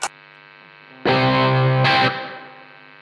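Electric guitar played through the drive channel of a Blackstar St James tube amp: a brief pick noise, then a loud distorted chord struck twice and left to decay with a modest tail, no voices.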